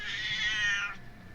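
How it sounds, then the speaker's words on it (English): A pet cat named Screamer meows once, a drawn-out, fairly loud cry close by that tails off, alone with no talk. "my cat wants in the room"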